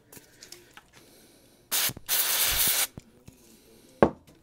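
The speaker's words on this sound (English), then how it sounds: "Let's spray that, because that is very dirty indeed." Two bursts of aerosol spray hiss close by onto a dirty, corroded switch from a 1961 Fender guitar, a short one followed by a longer steady blast, with small clicks and handling noises around them.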